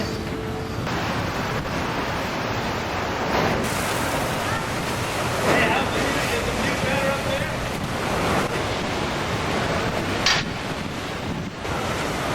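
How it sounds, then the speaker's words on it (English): Strong wind roaring across a ship's deck at sea near the Falklands, with loud steady buffeting on the microphone and the wash of waves beneath, building and gusting throughout. "the wind was definitely picking up and it was getting cooler"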